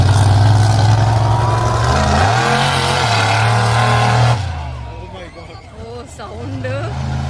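Monster truck engine at a race event, roaring loud with sustained revving and shifting pitch before dropping away, then fainter engine noise with a crowd and voices talking over it.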